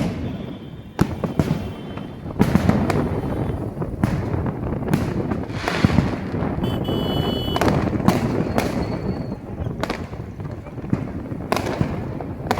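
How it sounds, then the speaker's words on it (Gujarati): Continuous rapid bursting of Diwali firecrackers at night, with sharp loud bangs over a dense crackling roar, wind noise and faint voices in the background. "ફટાકડા ફોડી ફોડી બહાર નીકળાય"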